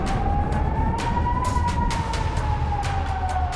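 A World War 3 air-raid style siren sounds alone as one loud, steady wailing tone that rises slightly and then falls slowly, with no voices.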